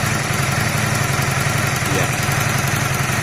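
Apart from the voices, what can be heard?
Honda CB250 cafe racer motorcycle engine idling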